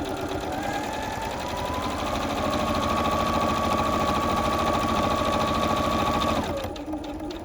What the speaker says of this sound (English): I can use my quick reverse button here, hold it and sew backwards. And then stop, and then I can continue sewing forward